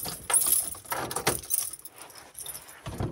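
A ring of keys jangles near a coat pocket on a frosty early morning before heading out for a walk: a few close, bright metallic jingling bursts with short pauses between them.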